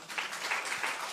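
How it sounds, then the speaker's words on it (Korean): Church congregation clapping together during an evening worship service, a steady dense patter of many hands filling the room at moderate volume. "아이고, 박수."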